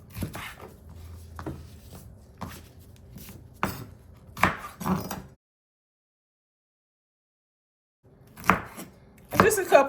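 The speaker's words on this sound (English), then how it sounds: "Add some celery too. Mabel's using celery. Chop this up in there as well." Knife chopping celery stalks on a cutting board while cooking beans with smoked turkey necks: a run of irregular crisp thuds and crunches, a pause of silence, then more quick chops.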